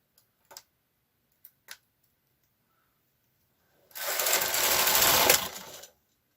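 A knitting machine works through rows: a few sparse mechanical clicks come first, then a loud, rushing clatter of about two seconds as the carriage sweeps across, then it stops.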